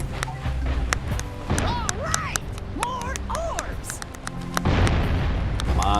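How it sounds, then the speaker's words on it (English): A bomb blast in the Jak & Daxter platform game, heavy booming bursts rolling under busy game music and effects, with a louder swell near the end while a voice talks over it. "that's a bomb"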